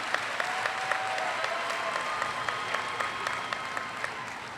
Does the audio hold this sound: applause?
yes